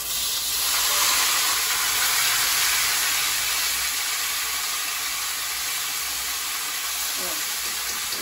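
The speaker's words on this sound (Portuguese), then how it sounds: "A gente vai selar ele aqui, ó, nessa gordurinha." Beef filet searing in hot fat and olive oil, a loud steady broadband sizzle that holds throughout, with a brief faint voice near the end.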